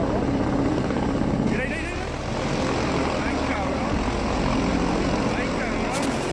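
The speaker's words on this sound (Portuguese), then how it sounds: "helicópteros militares aparecem no céu sobre uma casa chique no meio de um bairro movimentado" Military helicopters fly low over an upscale house in a busy neighbourhood, their steady rotor and engine roar filling the whole stretch loud and continuous, with a brief higher whine partway through.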